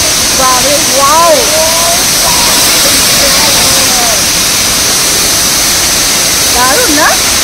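Bamni Falls waterfall in Purulia, a loud, continuous rushing roar of falling water from up close, with people talking over it intermittently.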